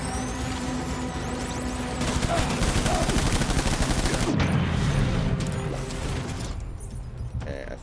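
Bursts of rapid gunfire rattle through an enemy attack in the video game Death Stranding. The volleys are loud and dense, then thin out and cut off partway through, leaving sparser in-game noise.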